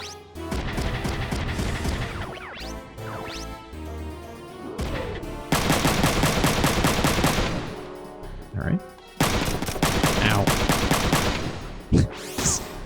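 Tank cannon and machine-gun fire from the mecha strategy game Front Mission 3, loud repeated bursts and blasts crowding much of the span, with someone talking over the combat.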